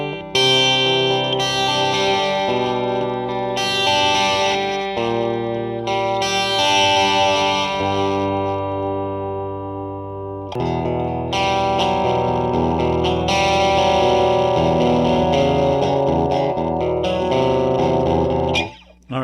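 Distorted electric guitar chords from an Epiphone Les Paul Junior through a 1986 Gorilla Tube Cruncher TC35 amp, crunchy, saturated tone, strummed loudly in phrases with a short pause midway, no voices.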